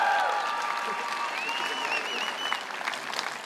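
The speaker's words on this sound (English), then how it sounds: "let's give a round of applause." A graduation crowd at a medical high school ceremony applauds in a sustained, even roar of clapping, with cheers and whistles rising over it midway through.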